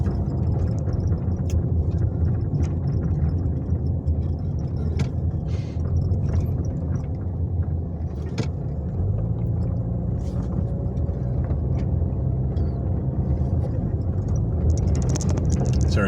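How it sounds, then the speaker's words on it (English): Road traffic around a large truck towing a landscaping trailer, with oncoming vehicles: a steady, loud low rumble of engines and tires that runs throughout, with no talking. "figure out what the heck that giant truck with the landscaping trailer was going to do, as well as the oncoming traffic"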